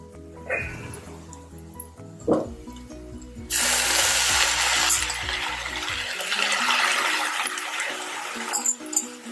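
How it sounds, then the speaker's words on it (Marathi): Wild monsoon greens (tarota) hit a hot pan of onions and red chillies with a sudden loud sizzle that hisses on for a few seconds, then eases as the frying settles, heard close. "आता यामध्ये आपण ही भाजी घालूया."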